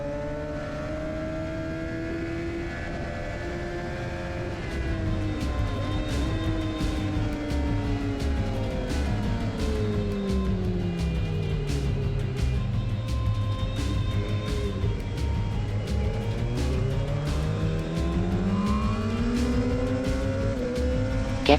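A motorcycle on Michelin Power GP2 tires laps a race circuit at speed. Its loud engine climbs and falls in pitch through repeated gear changes and throttle sweeps, close and continuous, with no talking.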